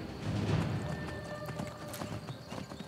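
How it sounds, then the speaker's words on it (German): A horse gallops in the video game Skyrim, its quick rhythmic hoofbeats clip-clopping at moderate distance over a faint background, heard briefly on their own. "Setzen wir kurz zum Sprint an. Und zum Galopp."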